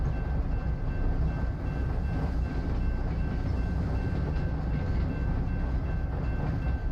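A train rolls steadily past a railroad crossing in American Truck Simulator, its continuous rumble and wheel clatter loud and unbroken, with a faint steady crossing tone above and no talk.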